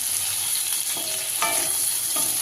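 Brinjal and potato stir-frying in a pan, a constant bright sizzle punctuated by a few scraping stirs of the spatula against the pan, close and loud with no voices.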